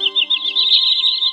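Common greenshank call recording: rapid, loud, high-pitched repeated piping notes run in a quick continuous series, close and alone over a faint steady hum.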